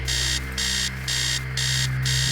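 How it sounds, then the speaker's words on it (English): An alarm clock blaring in the video game Stories Untold, loud repeated electronic beeping bursts in an even on-off rhythm over a low steady hum, with no speech. "Sound of an alarm clock blaring."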